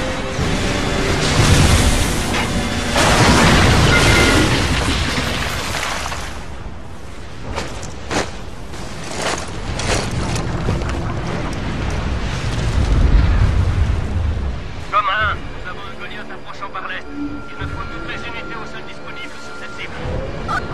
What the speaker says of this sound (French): On va s'écraser. Préparez-vous à l'impact.